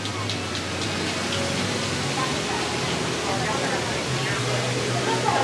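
Waterfall at Knott's Berry Farm gives a steady, broad rushing wash of falling water, continuous and fairly close, with faint voices and ambient park sounds underneath.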